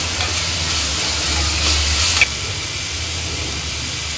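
Chopped green chillies, about three, drop into a hot pan with ginger-garlic paste for soya bean sukka, giving a steady broad sizzle with a brief stirring rush that ends in a sharp click, then a quieter hiss.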